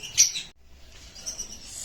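Caged birds at a bird shop: a brief burst of high chirps near the start, then a soft rustling background with faint twittering.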